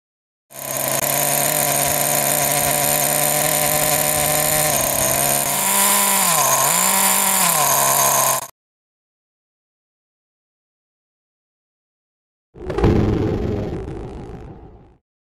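A nitro RC car engine running rich during break-in screams at a steady high pitch with a brief dip in revs, stops, then restarts after a silent pause.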